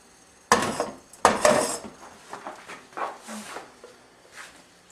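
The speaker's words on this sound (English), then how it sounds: "We're going to put this in a bowl." Melted chocolate scraped from a pot into a bowl, with two sharp clanks of utensil on dish first and then a run of softer scrapes and taps close by.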